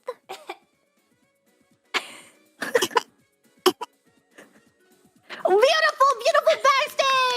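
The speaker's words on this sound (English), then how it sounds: "Great baby coughs" Several short, sharp coughs, apparently from a baby, come in scattered bursts during a hosted show, followed by a louder stretch of higher-pitched vocal sounds near the end.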